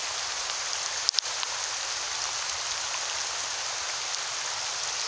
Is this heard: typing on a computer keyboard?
no